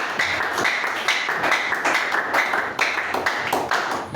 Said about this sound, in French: Acclamons une fois de plus.